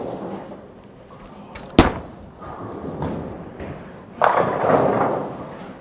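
A Storm Phaze bowling ball rolling down the lane, a low rumble building before a sharp crack of impact, followed by the louder clatter of pins scattering and tumbling for over a second.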